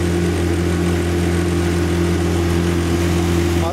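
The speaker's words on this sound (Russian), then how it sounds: "Моторчик обкатывается" An outboard motor runs steadily while breaking in on a Korsar Commander 430 boat out on the water, a constant close, loud hum with a mid-pitched drone and no change in speed throughout.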